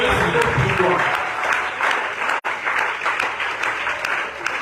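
A church congregation applauds and cheers in praise, steady broadband clapping filling the space at close range, with voices and shouts mixed in and a brief dropout partway through.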